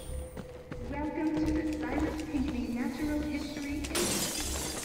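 Glass shatters in the video game Batman: Arkham City, a sudden bright crash near the end of a busy stretch of game action and thudding, with a person talking over it.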